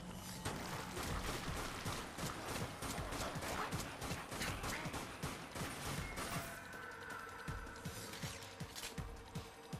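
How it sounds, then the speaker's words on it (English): Rapid gunfire and charge shots in the zombie shooter video game Dead Nation, dense crackling bursts with crashing impacts throughout, shifting to sparser shots and a lingering electronic tone in the last few seconds. "Charge shots are quite handy."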